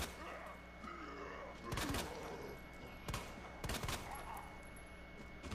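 Video game gunfire pops in a few separate bursts of loud shots over a busy background of game ambience, with rapid volleys clustered at intervals.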